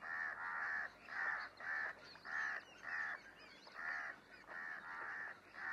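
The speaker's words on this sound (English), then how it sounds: "the house crows move in." House crows cawing in a repeated sequence of harsh, evenly spaced calls over several seconds, moderately close, set in a dry Indian landscape during a failed monsoon and famine, with no voices.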